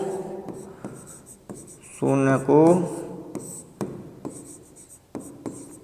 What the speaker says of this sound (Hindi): तो इसे यहाँ पे लिख देते हैं